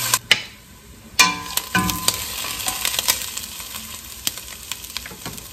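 Chopped onion sizzles in a frying pan as a base for mussels and fries with garden herbs. A steady close sizzle runs throughout, with clattering stirs and utensil knocks.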